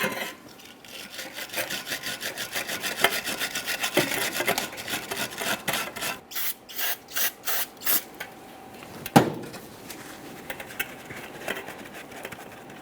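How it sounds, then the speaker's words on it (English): A wire brush scrubs the caliper slider ports on the rear brake caliper bracket of a 2013-2015 Chevrolet Malibu, giving a steady close scratching rub that turns into quicker back-and-forth strokes, with a sharp knock near the end and no talk. "We can use a wire brush for this."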